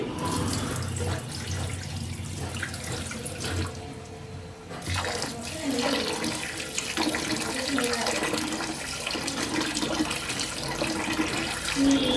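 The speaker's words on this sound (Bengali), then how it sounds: "এবার ভালো করে ধুয়ে নিতে হবে চালগুলোকে" Soaked rice for a traditional Barishal molida being rinsed under running tap water, a steady close splashing and trickling that dips briefly midway, then resumes with small knocks and swishes.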